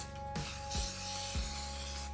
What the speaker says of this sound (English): So I do recommend you get yourself some spray oil and just really